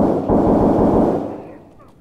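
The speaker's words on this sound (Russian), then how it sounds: "Ну там выстрелы, как будто какое-то жесткое оружие, возможно, 158" Heavy weapon fire in a video game, a dense, loud rattling roar of rapid shots lasting about a second before fading into a decaying rumble.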